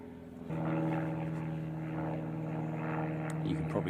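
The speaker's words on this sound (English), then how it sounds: "You can probably hear a light aircraft going overhead." A light propeller aircraft drones overhead near a local airport, a steady, fairly loud engine hum that swells slightly and holds throughout, with faint background noise beneath.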